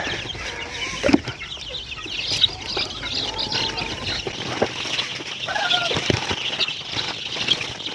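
Black Australorp and Rhode Island Red chicks cheeping in a dense, continuous chorus of high peeps, close and moderately loud, with no talking.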